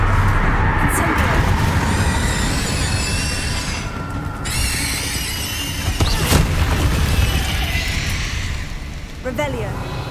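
A fire spell in Hogwarts Legacy bursts with a rumbling, whooshing blast over a steady game backdrop of low roar and crackle, with brief bright magical shimmer sounds layered on top.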